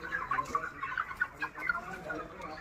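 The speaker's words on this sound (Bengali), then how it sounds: "আর এইটা হচ্ছে দেশি মুরগি" Native desi hens cluck and call near at hand, a steady run of short overlapping clucks spread across the moment, unaccompanied by any voices.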